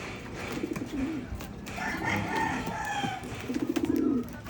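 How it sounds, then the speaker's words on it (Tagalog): Pigeons in a loft, with soft rhythmic cooing repeating at intervals over faint background noise and distant bird sounds. "Ayan pa mga kalapatids, so hindi pa pumapasok."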